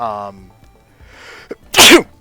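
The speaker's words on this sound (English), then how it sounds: "You should edit out that sneeze because it's spiky." A single loud, sharp sneeze erupts near the mic after a brief voiced sound and some quiet background noise during a gaming session.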